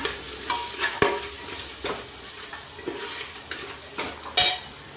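A spoon stirs turmeric and salt into rice in a frying pan, giving soft sizzling under repeated scraping strokes and a few sharp metallic knocks against the pan, no talk.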